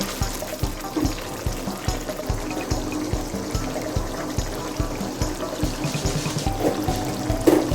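Yogurt stirred into chicken curry in a pot, with regular rhythmic scraping and thuds of a spoon mixing, fairly loud and close, over a continuous wet background hiss.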